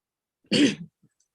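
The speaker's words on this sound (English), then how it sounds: "if I cough, please excuse me for that" A single short throat-clearing cough from a speaker with a sore throat, close and brief, surrounded by silence.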